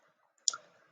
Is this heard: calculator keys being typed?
yes